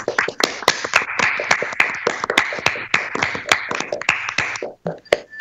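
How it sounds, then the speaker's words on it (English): Audience applause for student poster competition finalists at a materials research conference, heard as a close, uneven patter of hand claps with distinct sharp slaps that thins out and briefly drops away near the end. "Round of applause, please."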